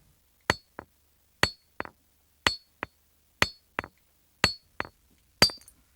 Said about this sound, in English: the knapper is using a basalt hammer weighing about 1 kilogram